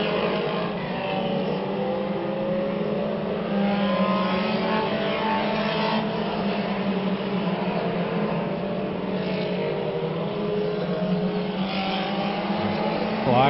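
Mini stock race cars roar around Orange Show Speedway in a 100-lap main event, big packs of engines droning steadily and loudly with no letup, a dense sustained wash of motors close by.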